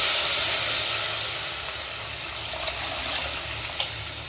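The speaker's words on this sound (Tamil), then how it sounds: "இப்போ புளி கரைச்சலை ஊற்ற போகிறோம்." Tamarind water is poured into eggplant frying in a pan for South Indian fish curry (meen kulambu), giving a steady broadband hiss and sizzle that fades slightly and carries a small crackle near the end.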